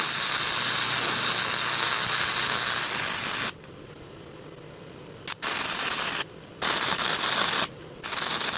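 A ratchet turns a socket port welded onto a bench vise, giving a continuous rapid clicking that stops and restarts in short bursts with quiet gaps between.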